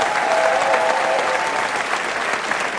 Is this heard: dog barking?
no